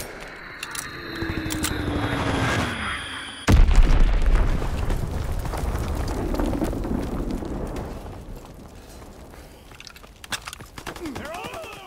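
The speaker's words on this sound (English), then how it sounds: "Dropping Azon bomb." An Azon bomb detonates in the Call of Duty WW2 shooter with a sudden loud boom partway through, followed by a long rumbling tail and scattered gunfire, amid game voice chatter.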